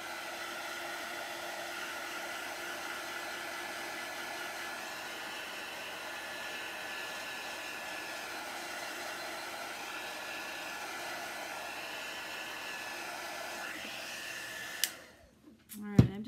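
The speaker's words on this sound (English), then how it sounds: "Let me just hit this with the dryer for a minute." A handheld hair dryer blows steadily on chalk paste spread over a craft stencil for a bunny design. It is a continuous, even whooshing roar that cuts off abruptly near the end with a couple of clicks.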